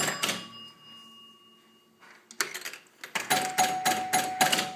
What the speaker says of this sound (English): You get a different bell for 50 and a different bell for 30.